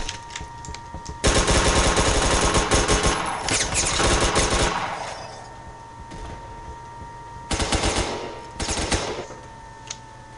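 AK-47 fire in the Phantom Forces video game comes in two loud, rapid automatic bursts, each lasting a few seconds, with a quieter stretch between them and no voices.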